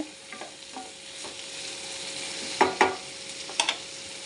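Sliced potatoes and okra fry in a pan and are stirred with a spatula, a soft steady sizzle broken by several sharp scraping stirs near the end, close and fairly quiet.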